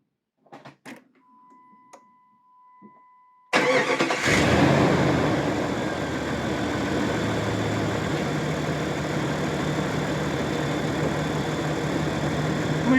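An Opel Frontera 2.4i (C24NE engine) on a cold day at minus 2: a few dashboard beeps and chimes, then the starter catches and the engine settles into a loud, steady idle close by.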